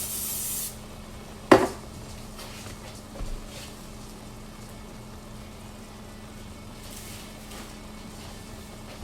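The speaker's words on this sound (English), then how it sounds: "I'm going to spray the outside of the containers." A short hiss of cooking spray coats the outside of upside-down stainless steel bowls, one small and one large, then a faint knock follows in a quiet kitchen.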